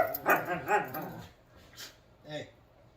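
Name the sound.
dogs barking in the background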